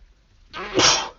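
A single close, loud sneeze bursts out after a short quick intake of breath, sharp and forceful, then stops abruptly.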